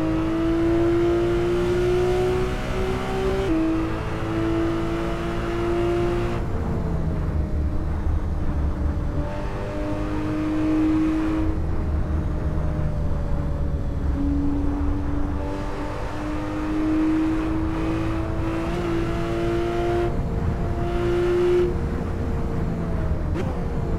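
Car engine in Assetto Corsa free roam around Glencoe, steady droning with rising and falling pitch through repeated gear changes, close and continuous without talk.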